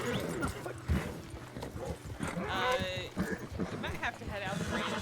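Horse hooves clip-clop in the RedM game world, a steady trotting patter under overlapping voices and animal noises, fairly close and continuous.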